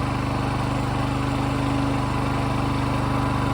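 A Champion portable generator runs steadily at a constant loud drone and engine hum. The small engine holds an even, rapid pulse throughout, close by, with no voices.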